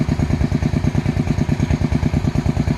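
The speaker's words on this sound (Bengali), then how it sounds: "এই যে যন্ত্রটা এই গোড়ায় গোড়ায় মাটি দেওয়ার জন্য মাটি ভরাট করে দেয়" A farm machine earthing up soil around the bases of potato plants runs with a loud, close, steady rhythmic engine chug and clatter.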